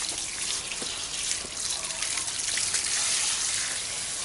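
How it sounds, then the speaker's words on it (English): Water pours and drains through the soil of a newly potted bonsai during a thorough watering, a steady close splashing hiss that continues without pause and with no voices. "So you have to water until water that is draining down the bottom is clear"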